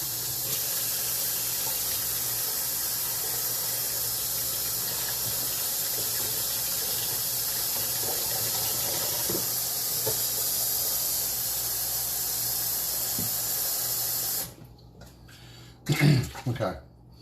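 Hot water gushing from a kitchen tap in a steady, loud hiss that runs for about fourteen seconds and then cuts off, followed by a few brief clanks and splashes; a person talks during it.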